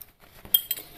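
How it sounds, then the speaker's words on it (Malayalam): A chunk of jaggery clinks into a metal cooking vessel, giving a few close, bright knocks and a short metallic ring in about a second, with no talking. "അതിനായിട്ട് ഒരു പാത്രത്തിലേക്ക് ഇടാം"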